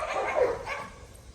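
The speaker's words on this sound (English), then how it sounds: "And the dogs are still fighting." Australian Shepherds, a giant schnoodle and a poodle scuffle outside near a compost bin under construction, giving a short burst of barking and growling at moderate distance.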